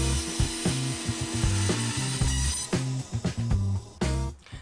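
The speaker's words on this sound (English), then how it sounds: "I'm using the bandsaw to do it" A bandsaw cuts through a wooden bracelet blank of walnut and ash, its motor humming with a raspy, pulsing saw tone that strains and eases in short bursts as the wood is fed through.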